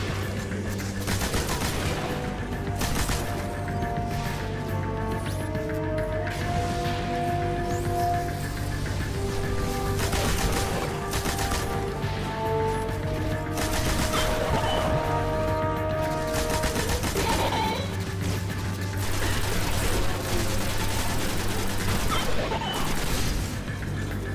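Dense gunfire and explosions from the video game Destiny on PS4, continuous loud bursts of shots and booms layered over game music with no pause.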